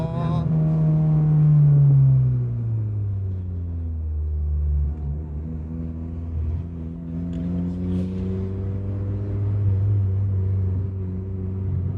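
Turbocharged 244-horsepower Honda Jazz GK pulling through two or three gears, a loud, close engine drone that rises, drops at each shift, then climbs again.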